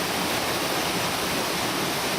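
Water tumbling down the artificial waterfall in Golden Gate Park, heard from the top of the falls as a steady, dense broadband rush, close and unbroken, with no voices.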